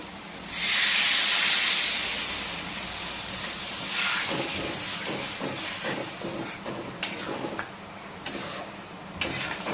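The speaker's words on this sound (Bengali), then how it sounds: "এইবারে এতে দিয়ে দিচ্ছি পরিমাণ মতন জল।" Water poured into a hot pan of katla fish curry on a high gas flame bursts into a loud steaming hiss that fades into softer bubbling, followed by light clicks and taps.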